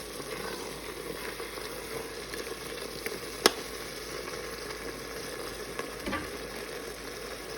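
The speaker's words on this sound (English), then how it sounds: "Let's cook the zucchini, stirring occasionally for 2 minutes." Zucchini sizzling steadily in a hot Instant Pot, a continuous close frying hiss with occasional soft scrapes and one sharp click from stirring; no voices.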